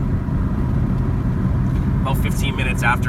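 Saab 900 driving in third gear with a worn gearbox, a steady, loud engine and road drone inside the car, with someone talking over it.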